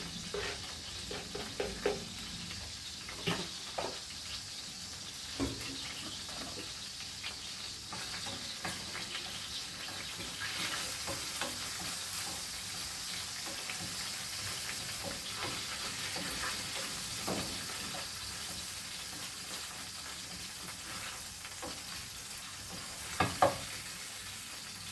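Garlic fries in a pan for chicken liver adobo, giving a faint, steady sizzle with scattered small crackles and an occasional soft clatter.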